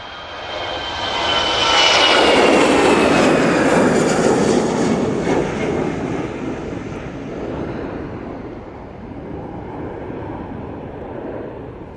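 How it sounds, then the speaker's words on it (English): An EasyJet jet airliner rolls down the runway for takeoff at Manchester Airport, its engine roar swelling quickly to a loud, broad peak and then slowly easing into a steady, more distant rumble. "EasyJet now on the roll, off to Hamburg."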